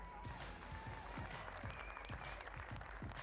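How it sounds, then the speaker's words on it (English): Sustained audience applause at a women's STIHL Timbersports championship in Australia, steady and moderately loud for the whole stretch, mixed with broadband crowd noise and faint tonal sounds. "Keep the applause going, ladies and gents"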